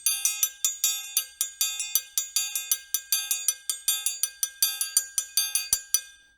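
Brazilian triangle (triangulo) struck in an even, straight rhythm, bright metallic rings repeating evenly and closely spaced, played alone and near, ending with a short ringing decay.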